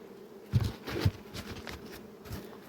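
Honeybees buzz around a hive whose colony is low in bees after a queen change, a faint, uneven hum with a couple of louder close passes near the start.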